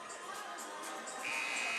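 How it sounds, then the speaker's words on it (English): A game-end buzzer sounds at a high school basketball game in a gym, a steady electronic tone rising over crowd noise near the end of the short span. "Devin Conley knocking down a 3 at the buzzer."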